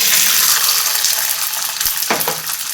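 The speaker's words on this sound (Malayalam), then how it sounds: "ഇനി ഈ എണ്ണയിലേക്ക് തന്നെ നമുക്ക് വട്ടാണ വറുത്ത് കോരിയെടുക്കാം" Dried peas fry in hot oil left over from frying peanuts, giving a continuous close crackling sizzle with a few light clicks and stirring scrapes near the end.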